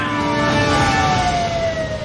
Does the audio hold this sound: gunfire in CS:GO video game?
no